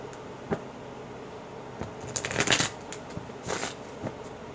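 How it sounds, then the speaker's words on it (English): Tarot cards being shuffled, a few quick riffling bursts with pauses between them, fairly quiet and close, with no talking. "I'm going to shuffle and I'm going to do it again"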